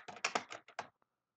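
Someone types a short word on a computer keyboard while entering text in a spreadsheet worksheet, a quick run of about six crisp keystrokes close up, then a final faint tap and silence.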